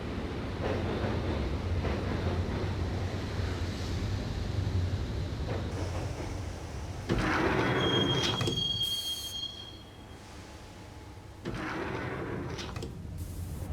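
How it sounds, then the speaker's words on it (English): A train in the video game Max Payne (2001) rumbles along the rails with screeching wheel squeals and a high metallic whine, the noise rising and falling as it rolls on. "the train doors had already shut behind me, and I was in for the ride"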